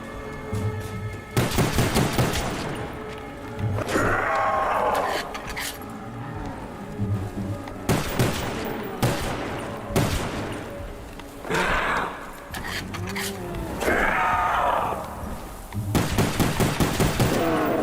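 Gunfire in Black Ops 1 Zombies: repeated loud bursts of automatic and single shots in short clusters, separated by brief pauses filled with game noises and grunts, continuing throughout.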